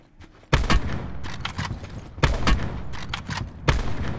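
In the Call of Duty: Black Ops 4 video game, loud, sharp gunfire cracks ring out close by, three hard reports spaced over a few seconds amid rolling game rumble.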